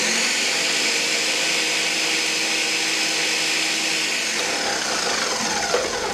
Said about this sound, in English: I might blend it for a little bit longer here.